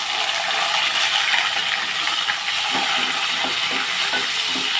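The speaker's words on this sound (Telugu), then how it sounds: "ఇప్పుడు ఒక ఉల్లిపాయ వేస్తున్నాను" An onion frying in hot oil for a tempering, a loud, even sizzle throughout with a few light clinks and scrapes of a spoon toward the end.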